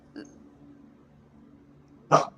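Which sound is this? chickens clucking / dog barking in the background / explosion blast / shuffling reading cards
dog barking in the background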